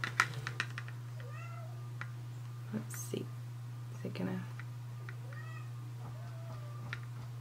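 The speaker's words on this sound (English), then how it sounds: "I apologize if you hear my cat in the background." A house cat meows several times in the background of an indoor beauty box unboxing, short rising mews scattered among soft speech, a steady electrical hum and light tapping.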